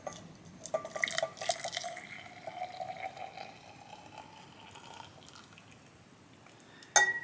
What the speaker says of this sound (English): Pour it in this glass right here.